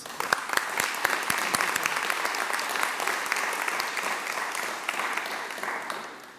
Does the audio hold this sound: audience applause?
yes